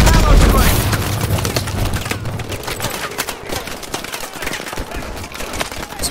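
Missile launches and explosions roar through a Call of Duty Advanced Warfare battle, a loud booming blast opening into sustained rumbling gunfire and crackling impacts, with voices shouting over the combat.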